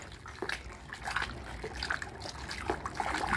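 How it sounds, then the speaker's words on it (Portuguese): Plaster powder being stirred into water, wet sloshing and gentle scraping strokes repeating steadily, close and moderately loud with no voices. "Mexer sua massa."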